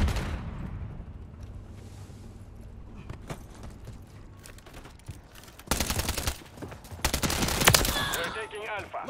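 Gunfire in Call of Duty Modern Warfare III multiplayer on the Highrise map crackles in scattered shots, then breaks into loud sustained automatic bursts toward the end, with game voice announcements around it.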